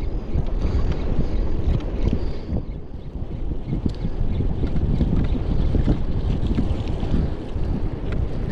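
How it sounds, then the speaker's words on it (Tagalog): Strong wind roars and buffets continuously on a fishing boat at sea, loud and close, with gusty low rumbling throughout and no voices. "Taas na kasi ang hangin."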